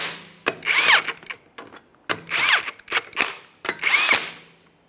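A power impact tool drives 22 mm lug nuts onto an Acura MDX wheel in three separate bursts, each a loud rattling hammering run close by with short pauses between.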